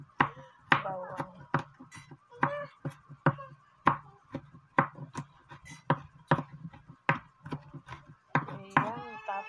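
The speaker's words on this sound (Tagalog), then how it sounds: "Kaya maghiwa tayo ng bawang." A knife chops garlic on a board in a home kitchen while preparing crab in coconut milk, giving a steady run of sharp, close, evenly spaced knocks with brief pauses between strokes.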